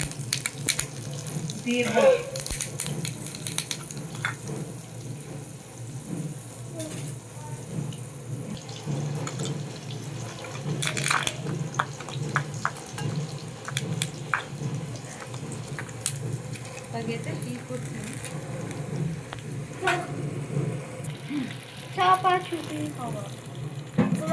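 Nigella seeds dropped into hot oil in a pot, crackling and sizzling steadily up close, with intermittent clinks and stirring noises throughout.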